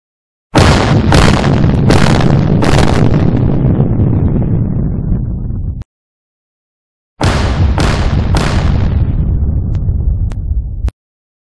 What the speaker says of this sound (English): Here's a couple of clips of the man running from these explosions.